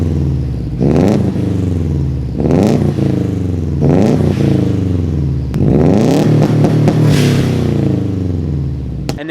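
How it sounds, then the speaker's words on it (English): Subaru WRX bugeye on its stock exhaust, before a Tomei titanium catback goes on, revs repeatedly: four rising throttle blips climbing and falling over a steady burbling idle, loud and close, the last rev longest. "I'll go ahead and plug in a sound clip of what it sounded like before the exhaust install."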